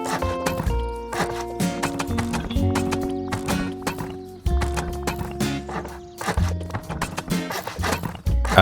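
Horse hooves clip-clop at a walk in the survival game Rust, and neighs and whinnies come in several times. The sounds are close and fairly loud and continue throughout with no talk.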